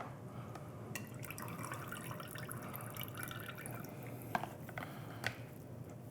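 Juice from napa cabbage kimchi is poured, a faint, steady liquid trickle with scattered small drips and splashes near the end.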